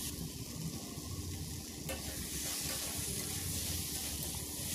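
Vegetables are dry-fried with cumin and chili powder in a pan, producing a dense, continuous close sizzle with rustling stirring and one brief clink partway through.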